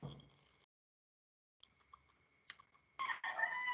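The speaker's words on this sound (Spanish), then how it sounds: "tiene su gallito de pelea por ahí, ¿no? Cantó antes que usted." A fighting rooster crows indoors from somewhere in the background: a faint, thin call starts it, then a louder, harsh crow bursts in near the end and runs on.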